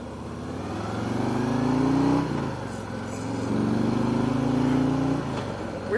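A Harley-Davidson motorcycle engine rumbles steadily while being ridden, its pitch rising through two drawn-out accelerations with a brief easing between them, close and loud with no talk.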